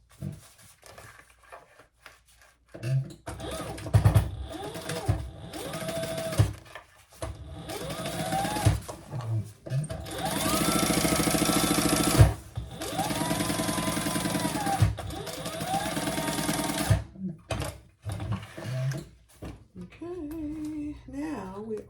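A sewing machine bastes fabric for a messenger bag in several bursts of rapid, whirring stitching separated by short pauses, with a person speaking between the runs.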